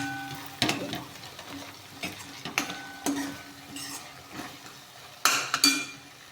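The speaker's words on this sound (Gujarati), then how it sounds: "હવે એને આ રીતે હલાવી દઈશું।" Spoon stirring sev into tomato curry in a pan, a series of irregular clinks and scrapes against the metal with soft sizzling between strokes, close and fairly quiet.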